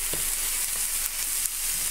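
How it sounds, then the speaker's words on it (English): Jalapeno and green chilies sear in a cast iron pan with a steady, dense sizzle that stays loud and close throughout, with no talking. "that I also like to kind of sear a little bit before I put it in the slow cooker"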